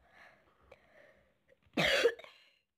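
A single harsh cough bursts out after some faint, quiet sounds, loud and close.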